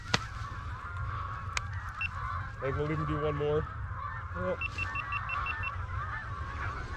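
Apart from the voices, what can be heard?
geese honking during a duck and goose hunt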